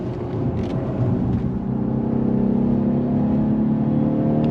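A 2023 Lexus RC 350 F Sport AWD V6 engine revs hard under wide-open throttle toward redline, a loud steady rising drone heard from inside the car with no talk.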